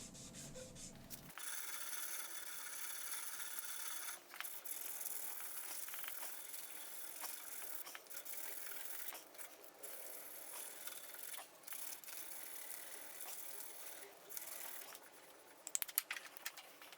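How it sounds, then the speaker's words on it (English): A knife handle being sanded by hand with sandpaper, working from 150 up through 325 grit, gives steady close scratchy rubbing strokes with brief pauses, loud and alone. "I will go ahead and hand sand it from 150 grit up through 325."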